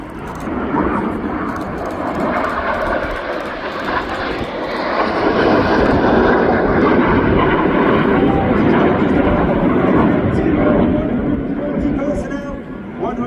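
Red Arrows jets in the serpent manoeuvre at RIAT roar loudly overhead, a broad rushing engine noise that swells and holds with a crowd murmuring faintly beneath.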